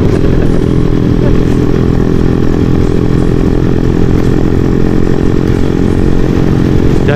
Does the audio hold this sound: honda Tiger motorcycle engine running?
yes